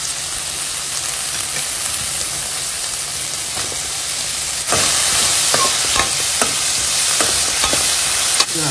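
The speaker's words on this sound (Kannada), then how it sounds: "ಹಾಗೆ ಈಗ ಕಟ್ ಮಾಡ್ಕೊಂಡಂತ ಕ್ಯಾರೆಟ್ ಸೇರಿಸ್ಕೊಳ್ಳೋಣ" Chopped carrots drop into a hot frying pan, the sizzle jumping louder midway, followed by repeated scraping stirs against the pan under a constant frying hiss.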